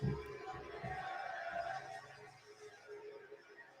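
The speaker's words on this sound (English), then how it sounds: "It's the crowd noise." Wrestling arena crowd noise plays from a TV broadcast of WWE Raw, a muffled, distant roar of voices with a few louder swells, fading somewhat toward the end.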